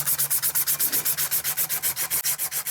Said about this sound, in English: So let's start working this thing out here with the 120 grit.